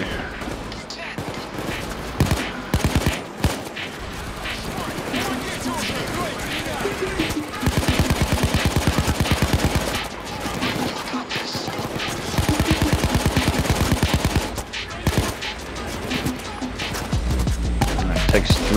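Enemy gunfire in the Payday 2 video game, with rapid automatic bursts rattling at a steady rate in long stretches and single shots in between, while people talk over it.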